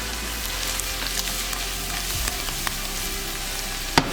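Green onion sizzles in a hot pan while being stirred into a corn casserole mixture made with butter, bell pepper and cream cheese. A steady close crackle of frying runs throughout, with a sharp clink at the end.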